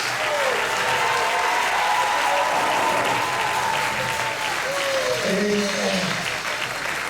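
A church congregation claps for the choir at an anniversary divine service, a steady wash of applause with faint voices and a few sung or called-out tones rising through it.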